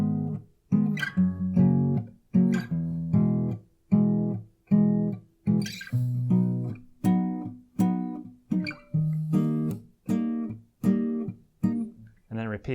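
Slow guitar picking pattern: evenly spaced plucked notes repeating in a steady rhythm, close and clear, played alone without talk.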